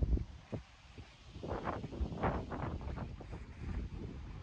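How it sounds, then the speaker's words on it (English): Gusty wind buffets the microphone outdoors with low rumbling bursts that swell and fade, steady and fairly close, with no talking. "The wind."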